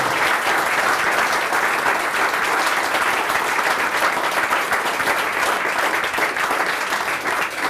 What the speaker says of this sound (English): Would you please give a great round of applause for Leader Promusic?